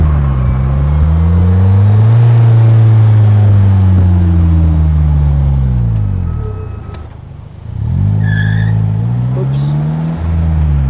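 Polaris Slingshot with an Ecotec engine accelerating hard, loud and close, engine pitch rising steadily through a long pull, a brief dip at a gear change, then climbing again.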